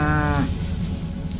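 A short, loud, close cow moo with a harmonic tone opens, then fades into steady outdoor rumble near a field being plowed.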